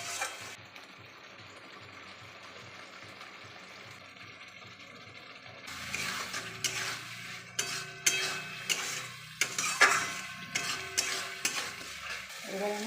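Spices frying in a pan for a jackfruit curry with goat fat, starting quiet, then a loud sizzle with repeated sharp scraping and clanking strokes of stirring.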